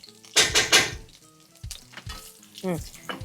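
Sliced onions hit a hot pan with ginger and crackle noisily, followed by sizzling and the scrape and clink of a spoon stirring against the metal pan.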